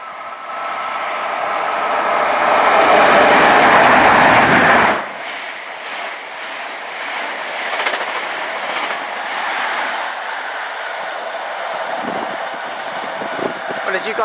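A Class 158 diesel unit on a Bristol Parkway to Portsmouth Harbour service passes through Keynsham station. A loud, rushing roar builds and then cuts off, leaving a fainter rumble and rattle as it moves away.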